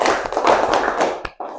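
Elementary-school pupils clap together in a classroom, a dense run of bright, rapid claps close by, ending with a single sharp clap after a brief pause.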